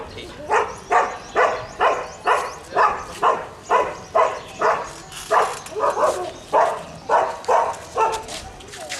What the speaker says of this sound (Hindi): एक कुत्ता पाले हो कहाँ?